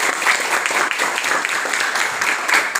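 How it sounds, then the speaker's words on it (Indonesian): Classroom applause for a student who has just presented, a dense burst of many hands clapping steadily and fairly loud for about three seconds, with no talking over it. "Coba tepuk tangan dulu untuk si Venesia"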